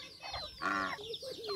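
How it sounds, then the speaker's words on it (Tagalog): Chickens cluck in their coop, close by, with a few short, separate clucks and calls in quick succession. "Yan po yung ating mga manok."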